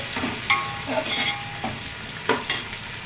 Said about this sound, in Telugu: టమాటాలు ఎత్తి అందులో వేయాలి. బాగా వేగనిచ్చాలండి.